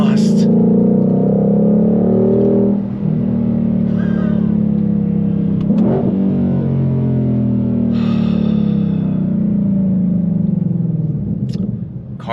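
A 2022 Ford Shelby GT500 Mustang on its stock exhaust, a loud, deep continuous engine rumble with swells in pitch, close and steady throughout.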